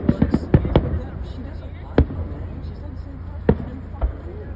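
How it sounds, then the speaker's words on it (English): Fireworks burst outdoors in a scattered series of sharp, booming pops, a few close together and others spaced seconds apart, with a low background rumble and faint crowd noise. "we're watching some fireworks."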